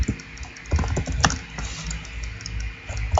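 Typing on a computer keyboard to enter a game command, a run of close, crisp key clicks in an uneven rhythm with a few sharper strikes, alone without talk.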